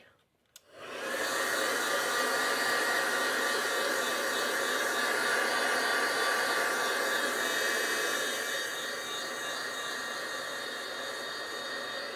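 A hair dryer starts with a click and then blows a loud, steady, close whoosh over wet paint on a splattered art piece. It runs without a break and eases slightly toward the end.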